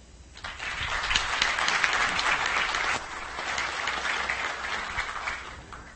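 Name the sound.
audience applause for panel mediator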